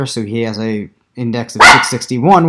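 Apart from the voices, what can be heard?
dog barking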